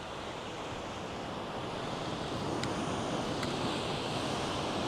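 Broad, steady wash of ocean surf along the Pacific coast of California, continuous and fairly loud with wind noise over it and no voices.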